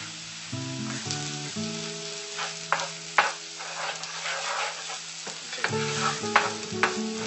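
Garlic and onion frying in oil in a pan while being stirred, with a steady sizzle and scattered utensil clatter. Tonal background music plays throughout.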